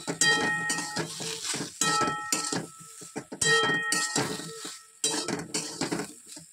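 A spoon stirs drumstick vegetable curry in a metal pot, sharp clinks and scrapes in irregular bursts with short quiet gaps, close and clear.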